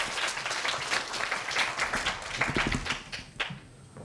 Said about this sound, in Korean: 오래 기다린 만큼 큰 박수 부탁드리겠습니다.